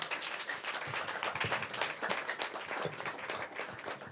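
A conference audience claps together in a dense, sustained round of applause, many hands close and even throughout, with no talking over it.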